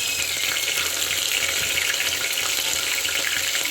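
Hot oil sizzling in a pan while cooking mutton curry, a steady, close, bright crackling hiss with no speech.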